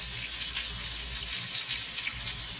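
Water runs steadily from a small tap into a sink in a truck's cooking area, a close, continuous hiss and splash with a low hum underneath and no talking.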